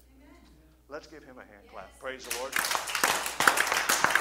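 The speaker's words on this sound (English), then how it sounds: "Let's give him a hand clap." A church congregation breaks into hand clapping during a worship service, a dense burst of claps rising after a short spoken exclamation and continuing alongside voices.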